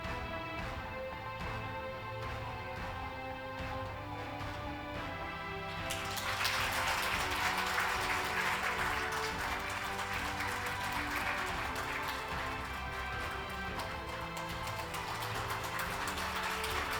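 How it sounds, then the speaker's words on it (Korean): At the 2021 Samsung Ho-Am Prize award ceremony, a seated audience breaks into applause after a quiet stretch. The clapping is soft and distant, a hiss of many hands that swells and holds steady to the end. "여러분 큰 박수 부탁드리겠습니다"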